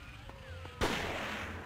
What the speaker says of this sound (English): It can shoot at me, but I can't shoot at it.